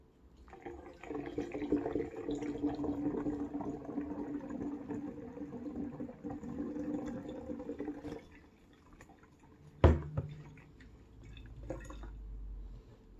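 Cool filtered water pours steadily through a funnel into a mead vessel for about eight seconds, a close trickling fill, followed by a sharp splash and a few softer drips.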